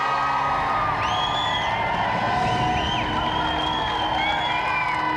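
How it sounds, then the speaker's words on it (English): A studio audience on the 1994 television game show GamesMaster whoops and cheers loudly for two special guests, a dense, sustained roar of shouting voices with shrill whistles and yells on top. "let's give another round of applause for our 2 special guests, Roger Black and Dwayne Ladejo"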